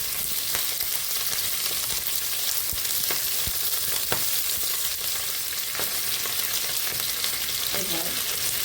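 Potato pieces and green chilli frying in a pan of hot oil for a cauliflower savoury pitha, a continuous dense loud sizzle with occasional sharp spatters and stirring clicks, heard close and without speech.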